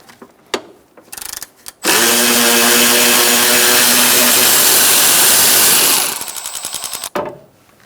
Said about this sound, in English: Using a 10mm socket, we're going to get this nut off the stud.